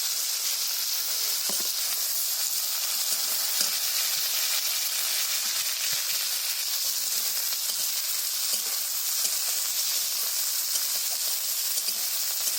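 Thinly sliced potato fries with onion in hot oil, giving a constant, even sizzle with faint crackles and occasional stirring scrapes, steady and unbroken throughout with no talking.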